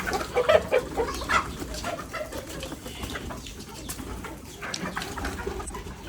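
Young White Shamo chicks cluck and cheep as their coop is opened. A few bright calls come early, then fade to a quieter background of soft farmyard noise.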